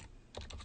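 Fast keystrokes on a computer keyboard while entering a fastboot flash command to unlock and root an HTC One phone, a quick cluster of close clicks after a brief pause.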